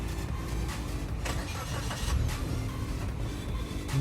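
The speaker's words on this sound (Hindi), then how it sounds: "अगर जब आप ऑन करते हैं तो कितनी आवाज़ आती है इंजन से" A Maruti Suzuki Baleno petrol car engine runs with a steady, smooth mid-pitched idle, close and constant with no talking.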